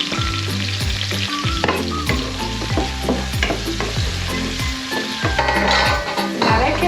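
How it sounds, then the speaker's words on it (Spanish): Ingredients, including peppers, sizzle and fry steadily in a pan for a creamy mushroom rice, with repeated scraping and stirring strokes over a continuous loud crackle and no talking. "vamos a continuar friendo nuestros ingredientes"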